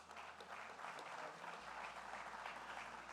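Steady, full applause from a large crowd at the Film Bazaar inauguration ceremony, loud and continuous from start to finish with no speech.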